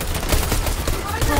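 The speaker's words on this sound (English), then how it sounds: "He's shooting me! He's shooting that me!" Rapid bursts of gunfire in the video game Fortnite during a hide-and-seek custom match, dense and loud throughout, with a voice talking over it.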